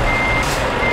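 A truck in Euro Truck Simulator 2 holds a steady engine drone with a continuous high reversing beep layered over it and no voices.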